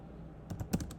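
A computer keyboard gets a few quick, faint keystrokes, about five soft clicks bunched in the second half of a quiet moment.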